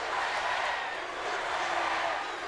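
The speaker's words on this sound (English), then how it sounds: "Can you hear that? They're saying UK, UK, UK." Arena crowd at a WWF wrestling event in Milwaukee, Wisconsin, chanting "UK" over and over, a dense, steady roar of many voices filling the hall without a break.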